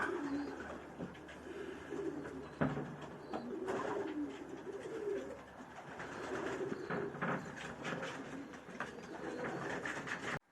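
Pigeons coo in a loft, soft repeated throaty calls from several birds overlapping at a moderate distance, with faint rustling and background hum throughout.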